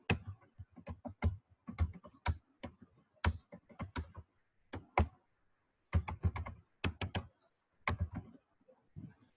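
Fingers type on a computer keyboard, quick bursts of sharp key clicks and thumps broken by short pauses, close and clear with no speech.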